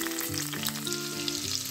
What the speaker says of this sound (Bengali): বেশি করে ভেজে নেব, যাতে উচ্ছের তিতো ভাগটা চলে যায়।